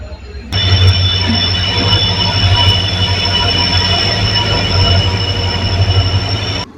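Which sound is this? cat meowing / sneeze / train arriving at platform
train arriving at platform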